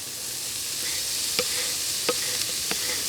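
Onions and shallots sizzling in a pan for fire-roasted Cajun gumbo, a soft steady hiss with a few light clinks of stirring, close but fairly quiet, with no talk.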